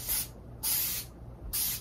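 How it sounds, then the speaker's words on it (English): Three short bursts of aerosol spray onto the edge of a foam core board, each a crisp hiss separated by brief pauses, close and moderately loud with no talking. "I'm going to do a quick little"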